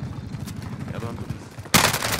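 Gunfire in the video game Call of Duty Cold War Warzone, faint distant shots under a voice, then a sudden loud burst of rapid close fire filling the final half second.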